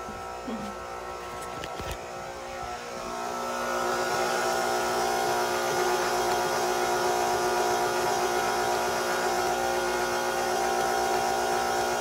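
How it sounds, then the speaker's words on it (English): Electric stand mixer running at medium-low speed, combining cookie dough: a steady, continuous motor hum and whir that holds for the full stretch, with a brief clatter at the start. "Back to the mixer till it's combined. Medium to low speed."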